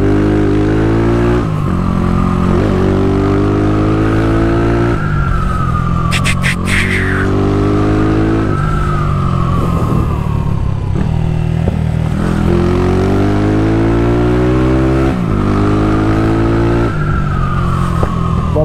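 A newly bought motorcycle rides along a road, its engine droning loud and steady with rising and falling pitch as it shifts gears and accelerates, with wind rushing over the mic throughout.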